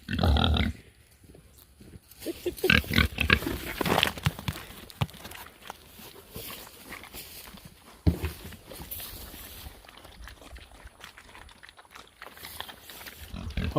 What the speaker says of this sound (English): Let me get set up and we'll go feed these pigs.